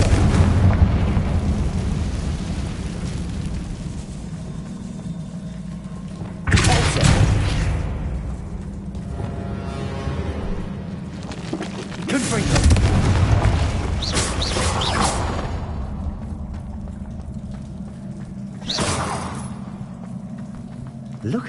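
Several blasting-curse explosions go off in a fantasy wizarding game, three or four heavy booming bursts spaced across the stretch over a low droning rumble, with speech present nearby.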